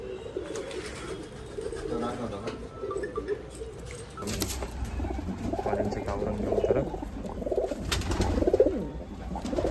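Imported UAE pigeons coo repeatedly in a loft, overlapping throaty rolls rising and falling at close range, with scattered rustles and a brief metallic jangle among them.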